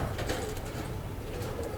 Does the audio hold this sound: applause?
no